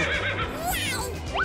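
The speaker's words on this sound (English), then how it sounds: "Oh no, there's a carriage ahead! Clover, stop! Yikes! Horses rush straight towards him!" Cartoon carriage horses neighing, a couple of sharp rising whinnies over a busy background, close and fairly loud.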